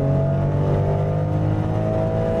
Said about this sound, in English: You really have to rev this engine to get the heavy SUV to be motivated